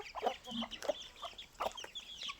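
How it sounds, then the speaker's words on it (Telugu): Several Giriraja chickens cluck softly in short irregular bursts, close by, with light background noise and no talking. "అవి వచ్చేసి గిరిరాజ కోళ్ళు చూడండి"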